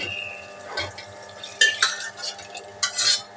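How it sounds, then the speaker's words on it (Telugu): Cooked dal being added to a pot of drumstick sambar, heard as a few soft clinks and scraping stirs of a spoon against the pot, with brief sharper knocks near the end, close and fairly quiet. "పప్పు పెట్టుకున్నాం కదా అదంతా వేసేసుకుంటున్నాం"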